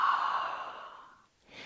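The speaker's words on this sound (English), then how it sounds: "So for Ujjayi breath, there's a slight constriction at the back of the throat" Ujjayi yoga breath drawn through a slightly constricted throat with the mouth closed: one long, close, hissing exhale that fades out, then the start of a softer inhale.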